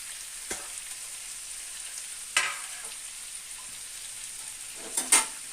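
Steady sizzling of fried eggplant going into hot spiced oil, broken by a few sharp clatters of stirring or utensils; no voices.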